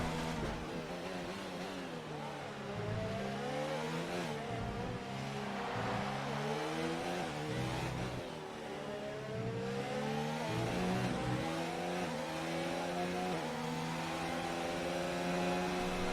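F1 race cars in F1 2019 at the Abu Dhabi GP, with several engines whining and revving up and down through gear changes. The engines sound close and steady and play alone, with no talk.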